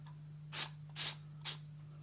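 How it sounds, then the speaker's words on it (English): Aerosol cleaning spray hisses onto stripped Beretta Outlander A300 shotgun parts in three short bursts over a steady low hum, fairly close and alone. "I use a spray"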